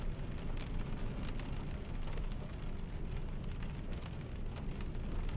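Steady rain falls in a truck driving video game, a dense, even hiss with scattered drop patter throughout, moderately loud and without any voices.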